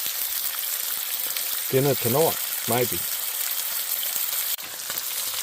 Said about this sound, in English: Sizzling away beautifully.